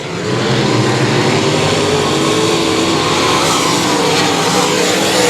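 Race cars circling South Texas Speedway, a loud, sustained engine roar that holds steady across the stretch as the field runs through the turns, with no voices.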